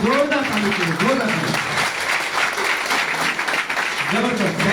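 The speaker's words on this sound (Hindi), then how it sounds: "जोरदार ताली चाहिए, जोरदार।" Audience applause at a direct-selling gathering, a sustained burst of loud clapping from a crowd, with a voice speaking over it near the start and again near the end.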